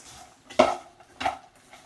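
Okra (bhindi) being tossed with a little oil in a bowl for a crispy fry: two sharp, close clinks of a utensil against the bowl, otherwise quiet.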